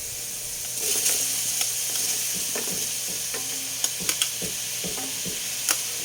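Pork with garlic and onion sautéing in a pan, a steady close sizzle and hiss with scattered clinks and scrapes of a stirring utensil against the pan.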